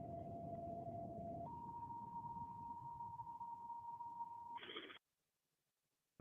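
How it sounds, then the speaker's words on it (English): Fire department dispatch tones over a radio scanner: a steady tone that steps up to a second, longer tone, then a brief higher tone before cutting to silence, all over a low hiss of radio static. "That background you hear slight, that's them toning out the fire department in the background."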